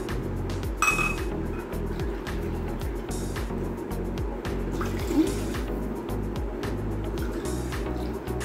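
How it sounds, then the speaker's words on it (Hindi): Water pours into a pan of fried chicken on the stove, a continuous splashing trickle with light clinks of metal, steady and close throughout. "अब हम इसी के अंदर पानी ऐड करेंगे"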